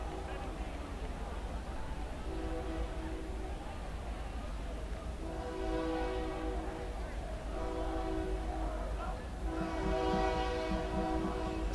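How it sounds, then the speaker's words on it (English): Trains pass in the distance around a college soccer stadium in Columbia, South Carolina, with long horn blasts sounding several times over steady crowd murmur and faint talk. "Sounds of Columbia echoing in the distance with the trains."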